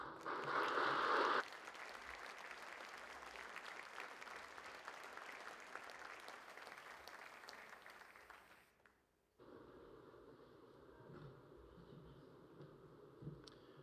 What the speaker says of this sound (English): Can we hear one more very loud round of applause